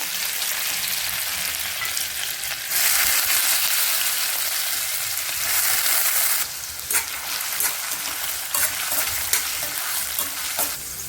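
Lentils frying in oil with cumin and chopped onion in a pan for spinach sabji make a steady sizzle that swells louder in bursts as the spatula stirs and scrapes, with no one talking.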